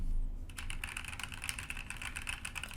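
Fingers type on a pink Glorious GMMK2 modular mechanical keyboard, a fast, uneven run of crisp clacking keystrokes, close and steady, with a low hum underneath.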